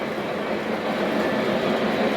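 A model Halloween train runs along a layout track, giving a steady, continuous rolling rumble close by with no voices.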